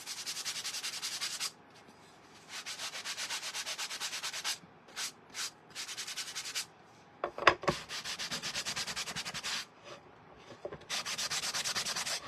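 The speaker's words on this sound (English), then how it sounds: "I'm just kind of sanding my edges down" Rhythmic hand sanding of wood, repeated scratchy rubbing strokes in bursts with short pauses between, close and clear.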